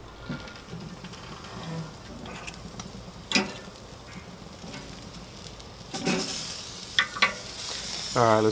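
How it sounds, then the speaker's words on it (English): Santa Maria tri tip searing over a very hot grill fire, a steady low sizzle with occasional crackles and pops, plus a few sharp clanks of tools near the end. "I'm going to try to keep this off the fire and go ahead and get it seared"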